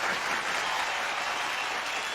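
Audience applause for legends at an award show, a dense steady wash of many hands clapping together, loud and sustained for the whole stretch without any talk.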